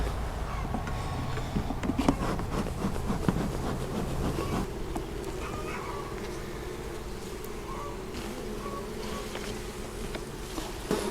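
Honeybees buzz as a nucleus colony in plastic nuc boxes is moved into a hive. The hum is dense and steady through the whole clip, with occasional knocks and clatter from handling equipment close by, and no voices.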